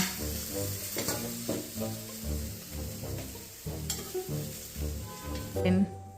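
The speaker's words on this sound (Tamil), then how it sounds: "இப்படிக்கா ஒரு பரட்டு, அப்படிக்கா ஒரு பரட்டு பரட்டிட்டு நல்லா வதங்கணும்" Brinjal sautéing for chutney sizzles in a pan while a utensil stirs and scrapes it in repeated rhythmic strokes, close and fairly clear.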